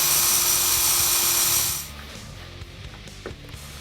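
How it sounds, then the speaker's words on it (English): A power drill bores a hole up from underneath through a carbon fiber splitter support on a 2015-2017 Mustang GT Performance Package, a loud steady whine for about two seconds that cuts off into quieter shop noise. "Drill a hole from the bottom."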